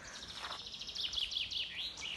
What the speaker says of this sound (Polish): W końcu udało mi się nagrać te ptaszki.